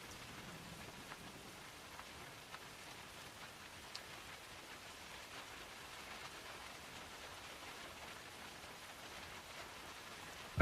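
Soft, steady rain falls as a quiet ambient hiss, with scattered faint drips and taps and a low, even background wash.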